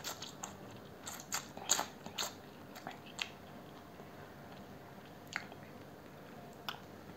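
Someone eats spicy Indomie Mi Goreng noodles with Vienna sausage, egg and chicken nuggets: quiet, close, wet bites and crunchy chewing come in scattered bursts over a hushed background, with no talking.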